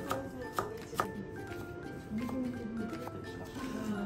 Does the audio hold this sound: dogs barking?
no